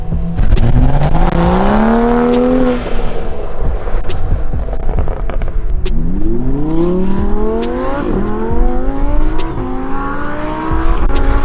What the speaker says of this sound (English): I was doing a straight burnout.